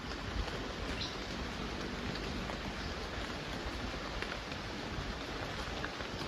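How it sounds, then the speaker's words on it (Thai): Heavy rain pouring down steadily outdoors, a dense continuous hiss of drops on surfaces, with no talk over it. "ตอนนี้ฝนเนี่ยยิงแรงขึ้น"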